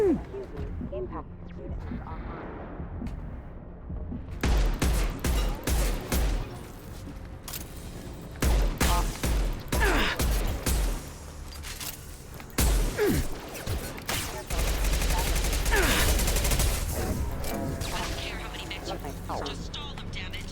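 Rapid bursts of submachine gun fire in a video game, coming in several loud clusters with booms and mechanical clatter, mixed under ongoing talk.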